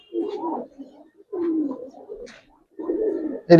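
Giribaz pigeons of aluminium silver colouring cooing at a loft, three distinct low, rolling coo phrases separated by short pauses, close and clear with no talk, ending in a brief sharp noise.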